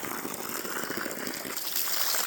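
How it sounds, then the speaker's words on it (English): Ice-cold water from an artesian well pours and gushes in a steady, close, full rush that swells slightly toward the end, with no talking. "Artesian well."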